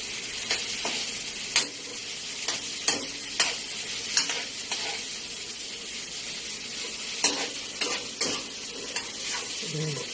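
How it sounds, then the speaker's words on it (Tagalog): Food sizzling as it fries in a pan, with a steady crackling hiss and repeated scraping clinks of a utensil stirring it, close and moderately loud with no talk. "haluin mo ngayon yan."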